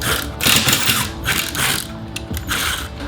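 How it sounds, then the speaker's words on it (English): Ratcheting tool clicking rapidly and steadily, close by, while bolts are backed out of the lower garage paneling in a Grand Design RV toy hauler; no one talks. "So I have to take a couple bolts out here, just on the bottom"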